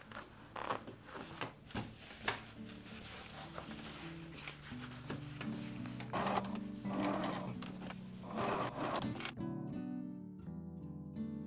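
A sewing machine with a zipper foot stitches a zipper onto a beginner-friendly fabric pouch. Quiet whirring runs alternate with short pauses, and soft music takes over at the end.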